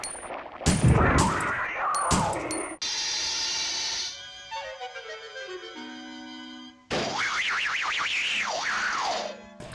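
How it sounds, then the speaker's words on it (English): A goofy cartoon deflating sound effect from the Resident Evil Survivor video game, played as the enemy cleaners in gas masks and health suits die. It is a wobbling, descending tone that fizzles out, framed by bursts of game noise at each end. "when they die they deflate with a goofy cartoon sound effect"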